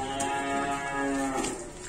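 A Limousin cow in a cattle dealer's pen gives one close, drawn-out moo lasting about two seconds, with no talk.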